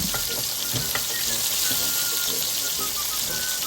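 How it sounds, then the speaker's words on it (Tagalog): Chicken frying in butter in a pan gives off a loud, steady sizzle and crackle, with faint stirring clicks underneath throughout. "Fry with the butter."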